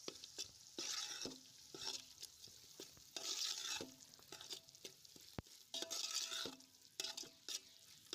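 Spice masala mixture with coriander-cumin and garam masala powder stirred in a pan on a wood-fired clay stove, rhythmic close scraping strokes with spoon clinks over a faint sizzle, no voices.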